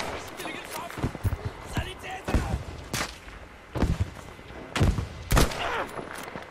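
Enemy gunfire aimed at the player in the video game Battlefield 5, several sharp shots spread irregularly across the clip, heard under someone talking.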